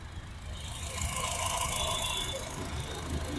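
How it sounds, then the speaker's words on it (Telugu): A faint mechanical whir with a thin squeal from the belts and pulleys of a used car's original engine spinning at idle, steady throughout. "జస్ట్ మీకు ఆ మోటార్లు తిరిగే సౌండ్, ఆ పుల్లీలు, ఆ బెల్ట్ అంతే."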